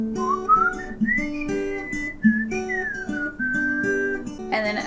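A melodic whistled passage from a Frozen II song plays over plucked guitar chords, the whistle clear and close above the accompaniment with no voices.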